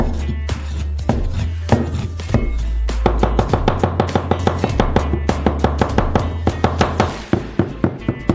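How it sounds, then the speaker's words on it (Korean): Pepperoni sausage being finely chopped with a knife on a cutting board: loud, close, rapid knocks in a steady rhythm, sparse at first, then quickening into a fast run of evenly spaced chops over a low background hum. "페페로니 소시지를 가능한 한 잘게 다져주세요"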